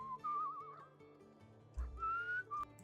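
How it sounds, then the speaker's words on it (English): Someone whistles two wavering, sustained notes with a gap between them in the video game Where the Water Tastes Like Wine, fairly close and otherwise quiet. "let's try whistling"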